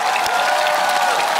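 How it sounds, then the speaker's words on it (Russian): Audience applause in a comedy roast studio, a continuous dense wash of clapping from a crowd, steady and fairly loud throughout the short stretch, with no clear voices over it. "Аплодируйте"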